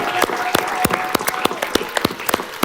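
A church congregation applauds and acclaims during a worship service with a prophet, sharp separate claps and bursts ringing out at an uneven pace over a faint steady tone, with no talk over them.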